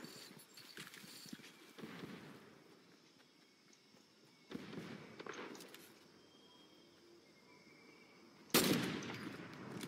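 Gunfire in a Fortnite match: several bursts of rapid shots spread across the clip, fairly faint and distant, with the loudest sharp volley near the end and no talk.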